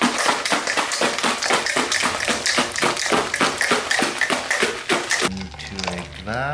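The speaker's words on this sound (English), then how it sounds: "seal the shaker. Using a water bottle?" A daiquiri with ice being shaken vigorously in a sealed water bottle used as a makeshift shaker, giving a fast, steady run of rattling taps, loud and close, before a short tonal sound at the end.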